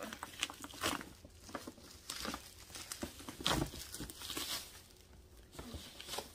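Bubble wrap is pulled and torn off a pair of Air Jordan 6 Retro sneakers, heard as close, quiet crinkling and crackling plastic in irregular bursts, with no one speaking.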